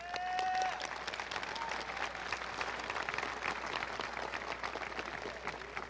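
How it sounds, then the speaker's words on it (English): A crowd at the Liberal High School graduation ceremony applauds steadily for several seconds in a large, reverberant space, with a short tonal sound near the start. "Please give these people a round of applause."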